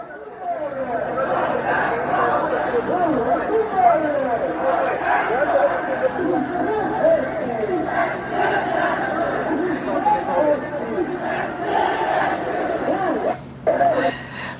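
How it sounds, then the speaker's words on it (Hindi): A large protest crowd gathered on a road in Assam, a dense steady babble of many voices chattering and calling out, loud and continuous throughout. "तो ये देख रहे हैं आप किस तरीके से भीड़ सड़क पर जुटी हुई है।"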